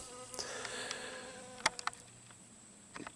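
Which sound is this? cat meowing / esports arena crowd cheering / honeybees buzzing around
honeybees buzzing around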